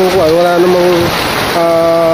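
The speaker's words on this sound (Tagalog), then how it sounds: "biglang lumakas yung ulan, saka yung hangin" Strong wind and rain lash a stormy outdoor scene, a dense, steady roar and hiss with heavy gusts, loud and close, while a person talks over it.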